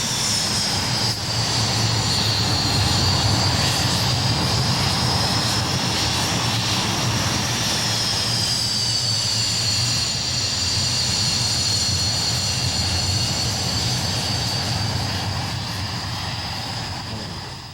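A Fleet Air Arm Hawker Hunter T-8M jet, first flown in 1958 and converted in 1979, roars past at close range. The loud, sustained whine stays nearly constant, shifts gently in pitch, and fades slightly at the end.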